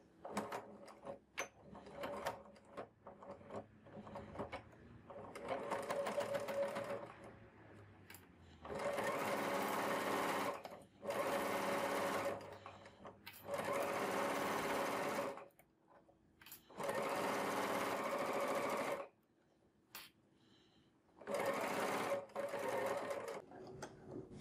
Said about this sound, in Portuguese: e depois eu continuo costurando.